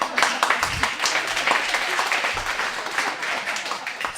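Audience clapping at a live performance for a young 18-year-old performer, a dense, loud round of applause from many hands, fairly close and sustained for several seconds, with no clear speech over it.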